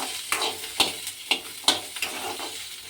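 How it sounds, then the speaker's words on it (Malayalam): Shallots are stirred in a pan while cooking for sambar, a spoon scraping in sharp, irregular strokes about twice a second over a faint sizzle, close and with no voices. "ആ ചെറിയുള്ളിയാണ് നമുക്ക് ഇട്ട് കൊടുക്കാം. നന്നായിട്ട് ഇളക്കി കൊടുക്കാം."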